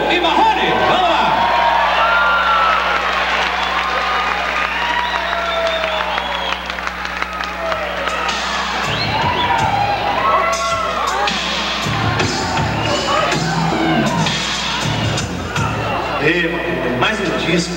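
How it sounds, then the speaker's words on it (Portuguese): A concert crowd welcomes a duo at a resort show, loud sustained applause mixed with whoops and cheers, shouting voices rising over the clapping. "eu gostaria que vocês recebessem eles com uma carinhosa salva de palmas"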